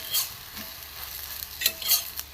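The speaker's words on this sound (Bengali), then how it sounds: "অল্প করে তেল দিয়ে দেবো, অল্প অল্প তেলে আমি ভাজবো," Mango malpua batter frying in a small amount of oil in a pan, a soft, steady sizzle with a few brighter crackling bursts, close and alone.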